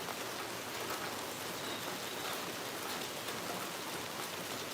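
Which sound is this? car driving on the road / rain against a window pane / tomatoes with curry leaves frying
rain against a window pane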